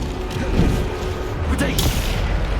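Bombarda explosion spells cast in combat in Hogwarts Legacy, dull booms and thuds within a constant loud battle rumble, with voices talking over it.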